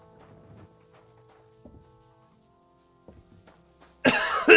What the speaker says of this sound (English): You coughing real loud.